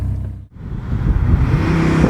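A supercharged 2002 Dodge Viper GTS accelerates hard: after a brief dip, the engine surges into a loud, close, rising roar that builds continuously to the end.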